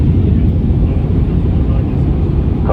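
Steady, loud low-frequency roar inside the cabin of a Turkish Airlines Airbus A321 descending to land at Odesa, Ukraine, a continuous engine and airflow drone with no break.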